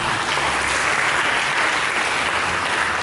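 Steady applause from a church congregation during a sermon, filling the space evenly for a few seconds with no voices above it.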